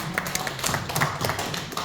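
A small church congregation at a Korean ROTC alumni fellowship meeting claps in thanks for a saxophone hymn performer. It is a short run of scattered, uneven handclaps from a modest group with no voices over it.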